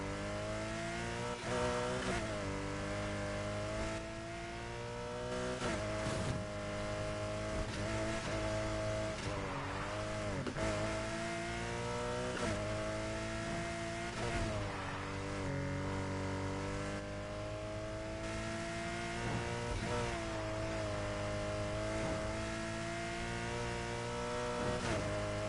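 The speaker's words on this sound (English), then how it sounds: "The sound of this engine is pretty good too. It sounds like a flat 6" A flat-six car engine in the racing game Need For Speed Heat revs hard and repeatedly through gear changes, loud and continuous, with rising and falling pitch sweeps and occasional tire squeal.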